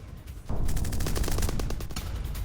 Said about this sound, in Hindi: ईरानी फोर्स पर फायरिंग करते लोग दिखे